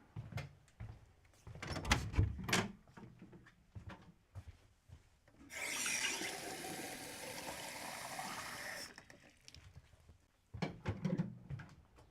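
Tap water runs in a steady, moderately loud gush for about three seconds while a painter fills water for a brush, with soft handling clatter before and after.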